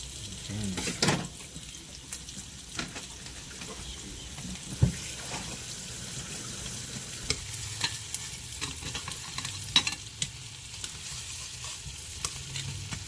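Beef oxtails brown in a pan with a quiet continuous sizzle, broken by occasional sharp clinks and scrapes of a utensil turning the meat, close by and with no talking.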